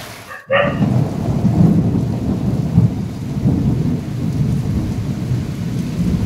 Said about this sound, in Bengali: কি মেঘের গর্জন না?